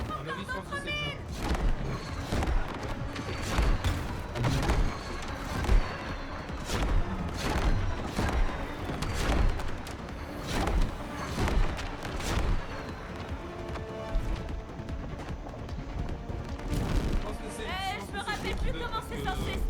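Repeated booming explosions and crashes from the video game Split Fiction come one after another under continuous talking.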